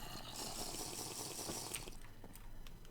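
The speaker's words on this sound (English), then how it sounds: "let me get a bottle of water." Water fills a bottle in the Minecraft video game, a quiet, steady liquid rush and gurgle lasting a few seconds with no one speaking over it.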